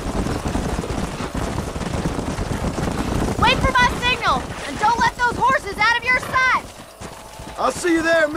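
Horses gallop with rapid clip-clop hoofbeats in the Red Dead Redemption video game, steady under wind noise, followed by several high whinnies and neighs as voices speak.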